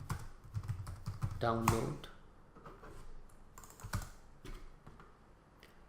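Typing on a computer keyboard while setting up a server, bursts of close, quick key clicks that come and go under a voice as he talks.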